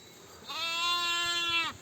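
A single sustained lamb bleat, fairly close and clear, lasting over a second with a slight wavering tone against quiet background.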